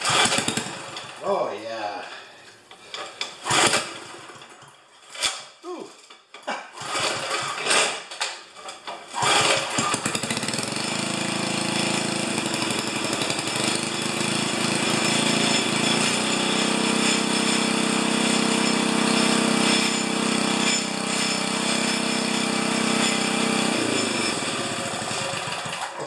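A small engine in a shop is cranked over a few times with talk and scattered clatter, then catches and settles into a steady, loud running drone that holds to the end.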